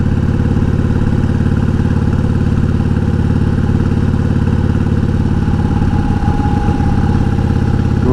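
An old 1988 Harley-Davidson Heritage Softail with a sidecar rumbles loudly and steadily up close, its V-twin engine thumping in an even, unbroken drone.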